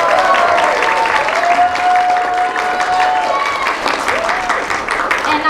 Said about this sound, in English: Our beautiful bride, please applause for her